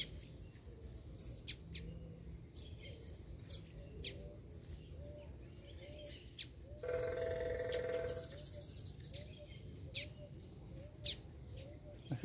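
Pardinho songbirds chirp nearby with sharp, repeated short calls and softer trilling notes, while a brief buzzy burst of other noise cuts in midway.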